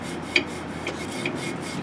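Bristle brush scrubbing dust off the metal fins of a paint booth filter, a steady close rasping rub with a few sharper scratchy strokes, no talking.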